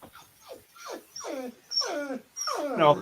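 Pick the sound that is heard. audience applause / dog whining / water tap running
dog whining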